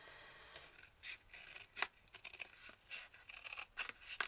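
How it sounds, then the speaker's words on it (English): Small scissors snipping paper for a junk journal, a series of quiet irregular cuts and rustles close by, with no speech. "I need some better scissors than the little ones"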